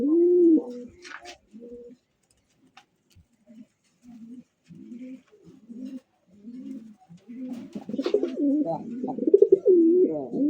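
Pigeons at a market sale coo in soft, repeated rounded calls, some close and clear, with a brief higher bird chirp early on and louder overlapping cooing near the end.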